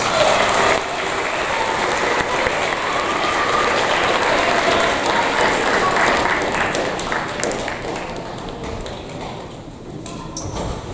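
A school audience at a 7th grade awards ceremony claps in one steady, dense round of applause that holds loud for several seconds and gradually thins out toward the end.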